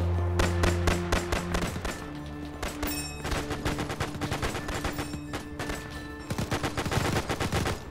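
Dense WW2-era gunfire in Arma 3: rapid bursts of automatic weapons and single rifle shots crackle continuously over eight seconds, loud and close, with overlapping shots and no speech.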